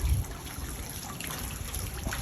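Water trickles weakly from a spa return jet despite a 2.5 hp pump running at 3,000 RPM, a steady thin splashing dribble heard close up with no talking.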